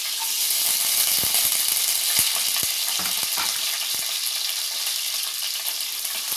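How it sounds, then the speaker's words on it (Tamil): Onions sauté in hot oil in a pan for a tamarind curry with okra and raw mango, a constant dense sizzle with a few soft spoon taps and scrapes under it. "இது நல்லா பொன்னிறமாக வதக்கிக்கணும்."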